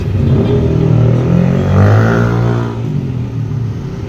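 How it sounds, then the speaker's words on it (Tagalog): Continuous street traffic rumbling close by on a hot day, with a car engine swelling louder as a vehicle accelerates past midway, then settling back into a steady, dense roar with no voices. "Ang ingay ng mga sasakyan"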